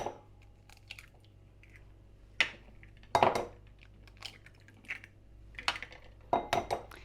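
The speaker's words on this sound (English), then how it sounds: "So I'm going to first break the eggs into a small bowl." Eggs cracked into a small bowl while making a crustless pumpkin pie, giving a few sharp taps and clinks of shell against the bowl with soft wet plops between, close and fairly quiet.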